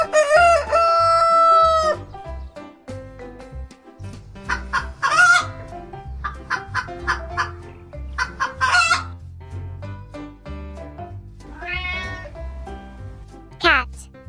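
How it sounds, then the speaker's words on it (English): Farm chickens cluck in choppy bursts throughout, mixed with loud rooster crows near the start and end and a few high squawks, all close and busy. "chicken,"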